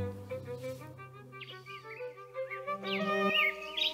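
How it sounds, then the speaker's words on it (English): Birds chirp and warble in high, varied calls against a steady low tonal hum, the song growing busier and louder toward the end. "So now you can hear the bird singing."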